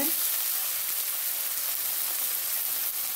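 Sugar sizzles in hot oil as a steady, loud, close hiss of frying that continues without a break.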